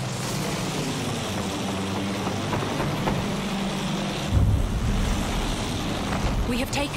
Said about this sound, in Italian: Vedo un aereo!